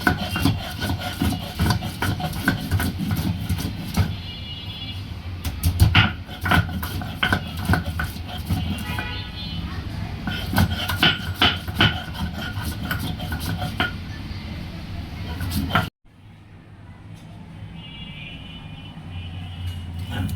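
Raw garlic and salt being ground into paste for a Bangladeshi shidol shutki bhorta, a steady close rasping, scraping rhythm of stone or pestle working for about fifteen seconds before stopping abruptly, leaving a quieter room.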